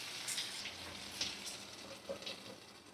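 Eggplant and spices frying in a pan over a medium flame give a faint, steady sizzle with a few soft crackles and stirring ticks, quiet and alone without voices.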